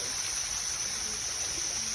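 Steady waterfall near a Chiang Mai temple, its flow a constant broadband hiss with no break, fairly loud and close, no voices over it.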